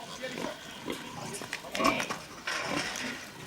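Pigs on a farm in the Swartland region, grunting and squealing in short irregular bursts, fairly close and moderately loud, with a person talking over part of it.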